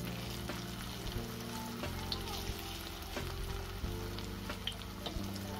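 Noodle pakoras sizzle in hot oil, a dense, loud, continuous frying hiss with small pops and spatters, heard up close with no talking.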